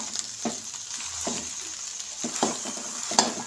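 Sugarcane jaggery stirred in a hot pan without added water gives a steady close sizzle, broken by several brief scraping strokes of the spoon. No one speaks.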